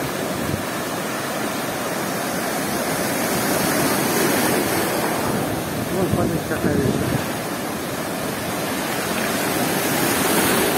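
Stormy sea waves pounding the shore at Blue Bay in Gelendzhik, a continuous loud roar of surf and spray with surges of crashing water, while someone talks over it.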